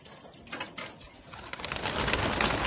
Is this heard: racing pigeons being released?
yes